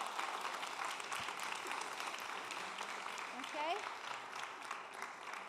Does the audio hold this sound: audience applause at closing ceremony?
yes